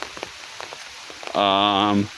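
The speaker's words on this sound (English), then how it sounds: "it's pouring rain all day" Pouring rain in a forest makes a steady, soft patter throughout, and a voice briefly speaks near the end.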